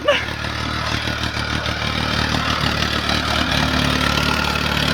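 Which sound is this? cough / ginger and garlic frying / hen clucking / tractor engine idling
tractor engine idling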